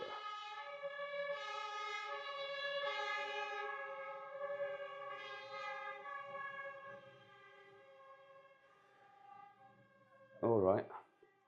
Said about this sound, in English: that was just like the firefighters walking through or driving through